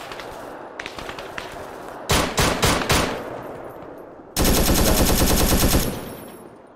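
Gunfire in the military shooter Arma 3, set on a Vietnam-era mission: a few sharp single shots, then a quick string of loud cracks, and finally a long, sustained machine-gun burst close by.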